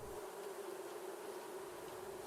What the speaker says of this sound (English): on one side there's bees